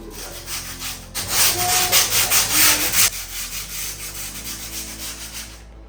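A knife scrapes along the edge of a skateboard deck to trim the grip tape, a loud, rough, rhythmic rasping in repeated strokes, close up.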